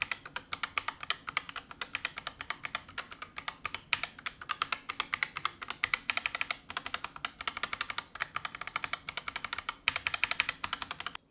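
Rapid, steady typing on a ROG Strix Scope RX TKL Wireless Deluxe keyboard with ROG RX switches and keycaps fitted, a dense run of crisp clicky keystrokes close up with no voice.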